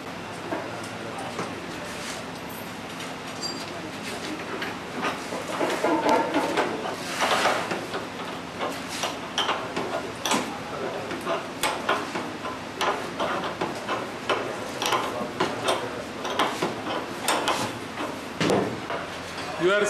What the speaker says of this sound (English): seeing the Geneva mechanism which works very smoothly without any problem.